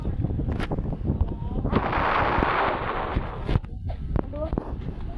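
A broad, rumbling bomb blast in the game Roblox swells and fades over about a second, with a voice talking and scattered clicks and thumps before and after.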